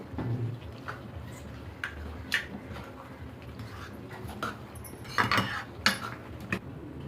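A spoon scraping and clinking in a pan as coriander leaves are stirred into pepper chicken gravy, with scattered clinks and scrapes at moderate loudness throughout, louder bursts near the end, and no talking.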